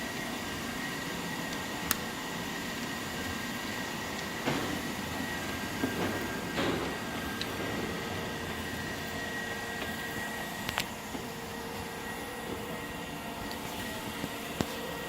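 A Proth PSGS3060BH automatic hydraulic surface grinder runs its table back and forth on auto feed, giving a steady broadband mechanical wash with a few sharp clicks and knocks at the stroke reversals.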